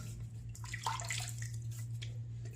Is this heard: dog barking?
no